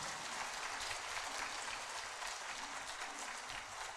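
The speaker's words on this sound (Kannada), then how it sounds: "ಇದಕ್ಕೋಸ್ಕರ ಒಂದ್ಸರಿ ಜೋರಾಗಿ ಚಪ್ಪಾಳೆ ಬರ್ಬೇಕು ನಿಮ್ಮ ಕಡೆ." An audience at a lecture event breaks into sustained, even applause, a dense and fairly distant patter of many hands clapping at once with no break for about four seconds.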